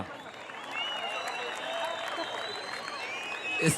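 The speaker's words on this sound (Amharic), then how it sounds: "እስኪ ለቤኪ ሞቅ ያለ ጭብጨባ" Audience applause for Beki, a promoter, at a surprise gathering in Mekelle: a steady wash of crowd clapping that holds at an even level throughout, with a louder burst near the end.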